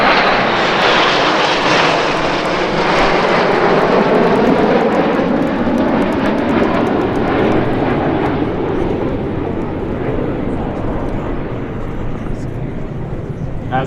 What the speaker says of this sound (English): Arriving at over 400 miles an hour in a demonstration of speed, precision and teamwork, the Royal Air Force Aerobatic team